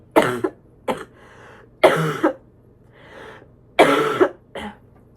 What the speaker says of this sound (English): I think I'm getting better as I cough like that